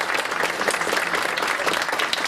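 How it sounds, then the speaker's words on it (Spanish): An audience claps together at the end of a morning conference talk on education and continuing training, a dense and lively round of applause that carries evenly through the short stretch. "Muy bien, un aplauso para mí."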